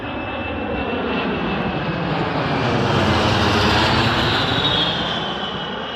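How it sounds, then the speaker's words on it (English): A propeller plane coming in to land roars steadily and loudly overhead at an air and space museum, its engine drone swelling slightly as it passes, with no talking. "this one coming in is a propeller plane, a prop plane"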